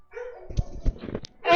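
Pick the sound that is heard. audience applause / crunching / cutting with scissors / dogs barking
dogs barking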